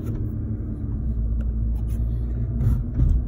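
A Volkswagen GTI with a manual gearbox and a suspected rear wheel bearing fault drives down the road, heard from inside the cabin as a steady low rumble with a slight swell near the end and no talking.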